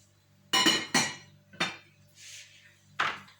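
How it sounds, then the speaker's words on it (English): Knife chopping small baby potatoes into quarters on a board, four or five sharp separate knocks with short pauses between them, close and clear with nothing else around. "So first we're going to start off by cutting our potatoes into quarters."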